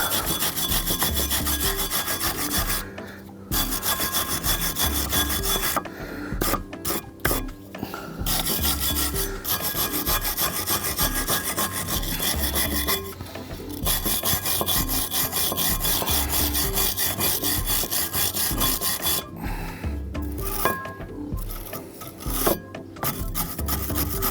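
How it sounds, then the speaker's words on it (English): Wire brush scrubbing the rear brake caliper carrier on an Audi A4 B6, a steady loud rasping back-and-forth with a few short pauses between bursts of strokes. "take a wire brush and we're going to brush off this caliper carrier"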